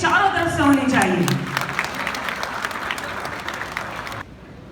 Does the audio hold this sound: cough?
no